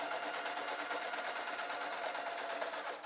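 A sewing machine stitches a knitting needle roll with a fast, even mechanical whir and rapid regular ticking of the needle, steady and close throughout.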